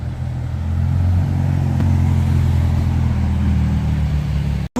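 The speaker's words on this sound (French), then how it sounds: "Ferrari Roma." A Ferrari Roma sports car engine rumbles steadily and loud nearby, a sustained low drone with a slight rise in revs that holds throughout before cutting off abruptly at the end.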